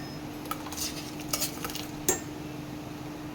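Washed rice with two kinds of lentils going into a pot for mutton-fat khichuri, with soft clinks and scrapes of a spoon stirring over a low steady hum, a sharper knock near the end.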